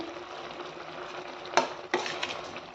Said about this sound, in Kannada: ಕುದೀತಿದೆ ನೋಡಿ, ಸ್ವಲ್ಪ ಕೊತ್ತಂಬರಿ ಹಾಕಿ